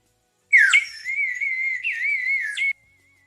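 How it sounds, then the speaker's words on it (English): A whistle pulled from a pocket is blown in one long, close, sustained tone with a sharp start and a couple of brief pitch bends, then cuts off into quiet. "She pulls out a whistle from her pocket"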